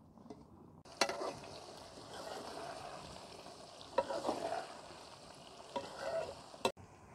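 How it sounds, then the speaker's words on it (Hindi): Okra frying in oil is stirred, a faint continuous sizzle with a few sharp spatula knocks against the pan at intervals, quiet overall. "इसी तरह हिलाते हुए हम इनको फ्राई करेंगे"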